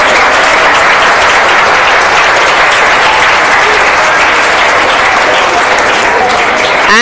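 A large audience applauds loudly and continuously for the winning team at a school spell bee and presentation competition, dense clapping filling the whole stretch without pause.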